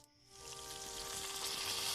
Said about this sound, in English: The occasional sizzle and pop.